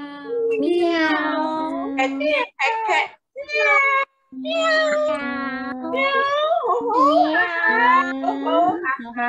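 A voice imitates a cat, giving a string of drawn-out, wavering meows in close succession with brief pauses, loud and near, in a classroom-style greeting session.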